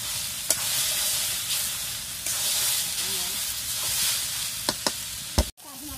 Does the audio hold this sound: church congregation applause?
no